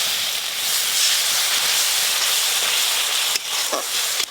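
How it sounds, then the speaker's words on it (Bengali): Chili-spiced paste with green chili, chili powder and a splash of water sizzles and hisses steadily in a hot pan, a constant frying roar with a few sharp stirring scrapes near the end. "মশলাটা বেশ ভালো করে একসঙ্গে কষে নেব"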